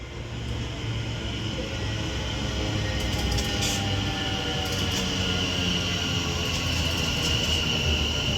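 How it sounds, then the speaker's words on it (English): A London Northwestern Railway Class 730 electric train arrives at Winsford on the West Coast Main Line, rumbling steadily nearby, a continuous low drone with hissing overtones and faint high squeals, staying loud throughout without voices. "This London North Western Railway Class 730 now arrives in"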